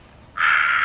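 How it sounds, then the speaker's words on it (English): A crow gives one loud, sustained caw that starts abruptly partway in and holds steady to the end, with no voices. "next is crow"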